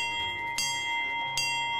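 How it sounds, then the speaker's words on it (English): Bell on the Wildlife Express miniature train rings as it departs, two clear metallic strikes about a second apart, each leaving a long ringing tone, near and alone. "With the sound of the bell, the Wildlife Express takes off for yet another run."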